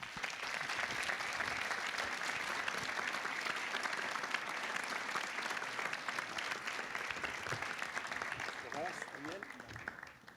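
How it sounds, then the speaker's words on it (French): An audience gives warm, sustained applause that is steady and full for several seconds, with a little crowd noise and a voice briefly heard near the end as the clapping tapers off. "Je vous demande d'applaudir chaleureusement Florence et Daniel Catiard."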